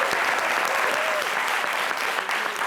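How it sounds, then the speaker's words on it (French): Studio audience applause on a French TV game show, a steady dense wash of clapping filling the whole stretch at even loudness, with a faint voice briefly audible underneath. "On peut déjà l'applaudir"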